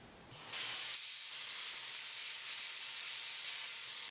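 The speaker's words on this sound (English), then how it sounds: "I actually want to take this to the sander and sand it smooth" A continuous, loud, rushing hiss of a power sander grinding a piece of mixed molten metal alloy smooth, running steadily throughout with no pauses.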